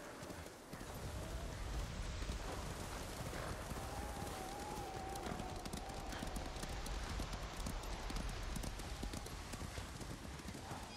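Horse hooves clip-clop steadily through rain in Ghost of Tsushima, a continuous trotting rhythm under a constant wash of rainfall, with voices talking over it.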